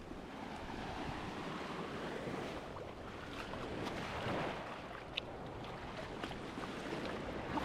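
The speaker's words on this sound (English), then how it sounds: "here on this beautiful, calm, peaceful beach in Side," Calm Mediterranean waves wash onto a beach in Side, Turkey, a constant soft rushing surf with some wind noise, and no voices.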